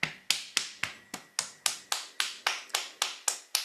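Hands pat steadily on the body, about fourteen crisp, evenly spaced slaps close up, each with a short decay, and no voice over them.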